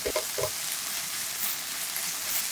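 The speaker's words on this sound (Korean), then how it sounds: "멸치 액젓 1스푼, 맛술 1스푼, 알룰로스 1스푼 넣고 섞어준 후 지리멸치 넣고 한 번 더 볶아주세요." Small dried anchovies stir-fried in a pan with fish sauce and seasoning, giving a loud, continuous frying hiss with a couple of soft knocks of the utensil at the start.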